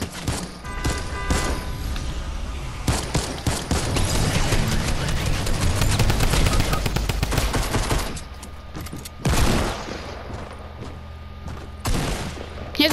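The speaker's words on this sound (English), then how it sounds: "I'm just getting shot by two people that are not even in the same team." Dense, relentless gunfire from the video game Fortnite, with rapid overlapping shots and bursts from several weapons that stay loud and close, ease briefly near the end, then flare up again.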